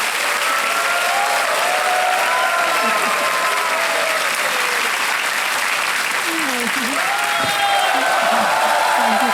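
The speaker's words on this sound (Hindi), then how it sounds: "तालियां बज जाएं राकेश जी के लिए" A studio audience on the Hindi quiz show Kaun Banega Crorepati applauds a contestant, loud continuous clapping throughout with some cheering voices mixed in.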